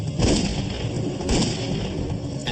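A gunshot in an air crash reenactment aboard a plane, a sharp bang followed by a second blast amid a loud, dense rumble of cabin noise.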